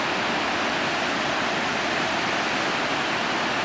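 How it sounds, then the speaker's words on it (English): A waterfall at a backcountry campground near Brazeau Lake in Jasper, heard as a steady, dense roar of rushing water, close and loud, unbroken throughout. "There's the waterfall."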